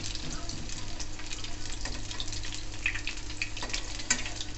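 Pakora deep frying in hot oil, a continuous dense sizzle and bubbling hiss, close and steady, with faint clinks of a utensil turning the pieces.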